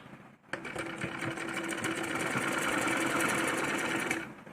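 Sewing machine stitching a salwar for a small girl, starting abruptly and running at a fast steady rattle for about four seconds before stopping, close and alone.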